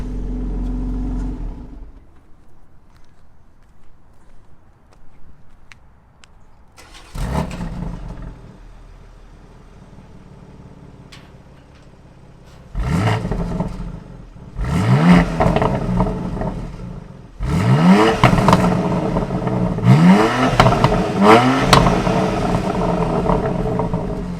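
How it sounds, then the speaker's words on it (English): A 2020 BMW X3 M Competition starts up and its exhaust is revved several times, with rising engine sweeps and pops between quieter idle stretches. The car is heard close and loud, with no talking. "I'll start it up and now running."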